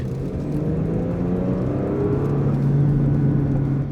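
A Porsche Panamera 4 E-Hybrid in Sport Plus manual mode, engine revving as it accelerates, heard from the cabin as a loud steady drone with rising engine tones and no talking.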